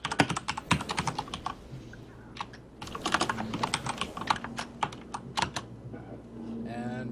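Fast typing on a computer keyboard during a Smite esports cast, dense bursts of close clicky keystrokes with short pauses and a faint background hum.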